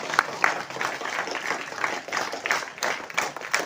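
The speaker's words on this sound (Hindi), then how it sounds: "मैं स्टूडेंट से चाहूँगी कि वो ज़ोरदार तालियां मार के इस चीज़ को अप्रिशिएट करें" Students at a COVID awareness programme applaud together, a fairly soft, even patter of many hands with a few sharper claps standing out, brief and continuous.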